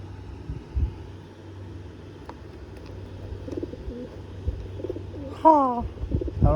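A pigeon coos close by in a few soft, warbling low calls near the end, with quiet outdoor background noise and faint passing traffic.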